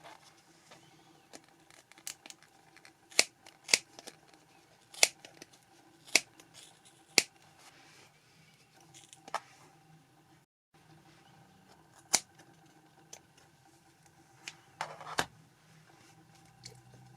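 Scissors snip through yarn wound on a plastic pom-pom maker, a string of sharp close cuts in uneven clusters with a brief pause between bursts, alone without talk.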